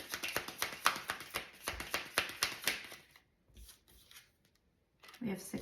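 Tarot cards being shuffled by hand: a quick run of crisp riffling bursts at an even rhythm, close and clear, then a pause with a few soft taps before a brief rustle returns.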